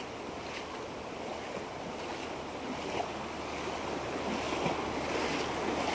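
Floodwater from a farm field rushes across a village road toward a river after an upstream canal breach, making a steady broadband roar mixed with wind buffeting, continuous and fairly loud with no voices.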